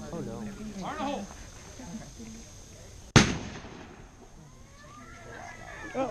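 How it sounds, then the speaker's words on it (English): A real gun fires once at a pop can outdoors, a single sharp, loud close crack midway through, preceded and followed by people talking and a baby's voice in the background. "just to show you what it does to a pop can when we shoot"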